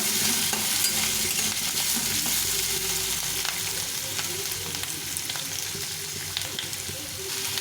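Potatoes fry in hot oil with dried red chili and cumin seeds, making a loud, dense, continuous close sizzle that holds steady throughout, with faint stirring scrapes beneath it.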